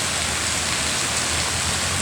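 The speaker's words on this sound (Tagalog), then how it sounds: "Dahil bumuhos na talaga yung malakas na ulan." Heavy rain pours down in a dense, steady roar, loud and close, with no voices.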